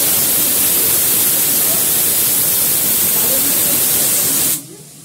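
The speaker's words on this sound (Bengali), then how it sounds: "ভালো করে লাল করে মাছটা ভেজে নেব।" Fish frying in hot oil in a pan gives a loud, steady, close sizzling hiss that cuts off abruptly near the end.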